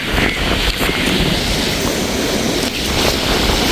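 Strong storm wind at KKS beach roars as a loud, continuous gusting rush into the microphone, blended with the churn of heavy sea waves.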